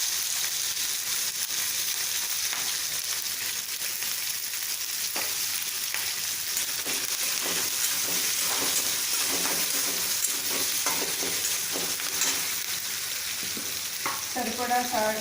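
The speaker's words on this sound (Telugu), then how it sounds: "పచ్చిమిర్చి, కరివేపాకు వేసి అది వేగేలాగా పెట్టుకోవాలి." Green chillies and curry leaves crackle and sizzle steadily in hot oil in a pan while being stirred for a potato upma curry, a continuous close frying hiss with no talk.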